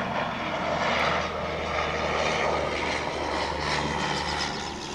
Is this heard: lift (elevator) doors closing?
no